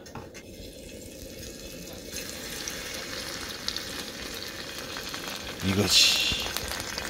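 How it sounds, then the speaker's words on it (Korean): Korean jeon pancake batter frying in cooking oil in a heated pan, giving a steady, fairly soft hiss with a short swell of sizzle near the end, and a brief spoken remark partway through. "이제 팬 달궈서 식용유 붓고 전을 한번 부쳐보겠습니다."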